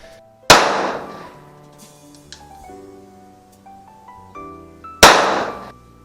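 Gunshots at an outdoor shooting range: two loud, sharp reports about four and a half seconds apart, each followed by ringing metallic clangs and tinkling echoes.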